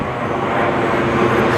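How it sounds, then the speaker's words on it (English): A big airplane passes overhead, heard from a street in Montreal's Park Extension borough as a loud, steady broadband roar with no talking. "There's another big plane coming in."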